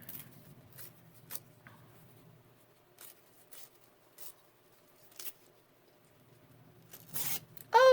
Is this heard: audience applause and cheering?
no